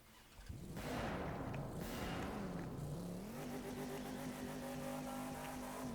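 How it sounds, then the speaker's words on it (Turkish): A 1967 Shelby GT500 Drift Edition in The Crew 2 fires up with a loud burst, then settles into a deep, rumbling V8 idle that rises and falls before holding steady, with no voices. "Şöyle makineyi bir çalıştıralım"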